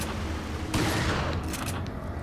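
Shotgun blasts go off in the video game Resident Evil 4, landing as a few loud, dense bursts over a busy in-game background, with no talking.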